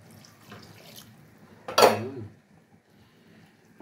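A little water is poured into a cooking pot while preparing wild asparagus with sweet potato, a short splashing pour with a clink, close and fairly loud, set among quiet kitchen background.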